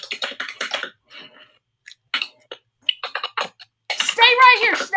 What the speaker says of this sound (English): With his loud old keyboard.